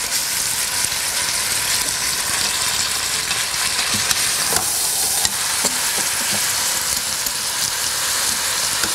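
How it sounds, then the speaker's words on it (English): Chopped onions and beef sauté in a hot pan for a pot roast, giving a loud, continuous sizzle with occasional soft knocks from stirring and no talk. "Kind of saute the onions along with the beef."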